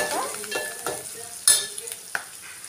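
Cluster beans stirred with turmeric in a frying pan, a soft sizzle under several scraping stirs and one sharper clink of utensil on pan.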